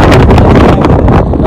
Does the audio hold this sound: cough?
no